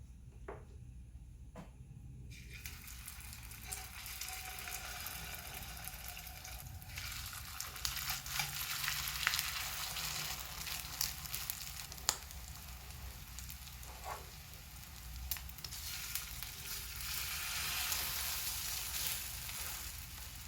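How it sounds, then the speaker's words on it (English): Crab cakes frying in hot oil in a pan give a steady, close crackling sizzle that holds for the whole stretch, with a few small pops and no voices. "Once the oil is hot, then we're gonna add crab cake."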